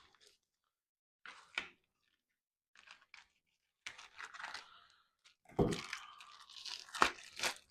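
Plastic packaging around a nearly 9-pound pork butt being cut open and torn: scattered crinkles and snips, then a louder burst of crackling and ripping toward the end, close and with no talking.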